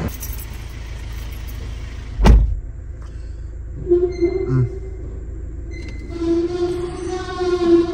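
An old, worn-out car being moved out of a parking spot, its noisy engine rumbling steadily close by, with one sharp loud knock partway through and a few squeaky tonal bursts later.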